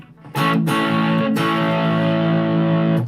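Electric guitar with the overdrive gain turned all the way up, playing a sustained, distorted chord that rings loud and saturated for about three seconds, with a couple of brief picking breaks and nothing else heard.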